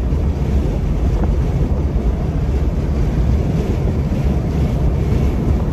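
Heavy, steady wind roar buffets the cabin of a Jeep Gladiator with the top open at 55 mph and rear windows up, a loud continuous low rumble with no voices.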